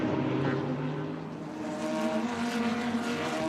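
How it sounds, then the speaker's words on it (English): DTM touring race cars powering through the Norisring street-circuit chicane, several engines blending into a loud, sustained roar with rising and falling tones as the cars pass close by. "The sound of these cars as they make their way through the chicane here is simply awesome."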